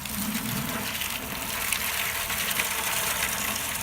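Water dumped out of a pot outdoors while boiling a deer skull for a European mount, a steady broad gushing splash lasting several seconds, close and fairly loud with no talking.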